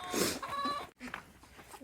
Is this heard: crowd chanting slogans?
no